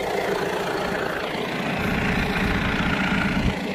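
A John Deere 7-series tractor engine runs at a steady idle, a dense, continuous low rumble with constant loudness throughout and no voices.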